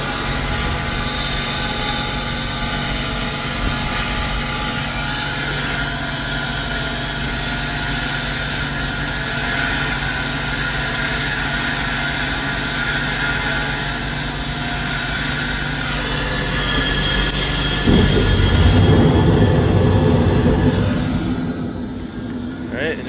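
An old York rooftop HVAC unit's motor runs with a steady, droning hum and whir carrying faint tonal whine, growing louder and rougher briefly near the end before easing off.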